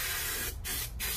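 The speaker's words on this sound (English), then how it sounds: "Don't panic if the glue starts to dry, because you can just spray some more on." Spray adhesive glue hissing from an aerosol onto a Ford Transit Mk7 van interior panel, a close, steady spray with two brief pauses before resuming.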